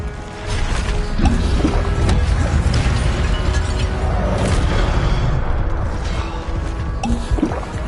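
The Incendio fire spell is cast in Hogwarts Legacy, a loud burst of roaring, crackling flame with booming impacts and clanking mechanisms, sustained for several seconds.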